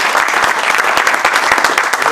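A church congregation of Congolese pastors' gathering in Europe applauds to acclaim the Lord, dense continuous clapping from many hands, loud and close, with a few voices mixed in.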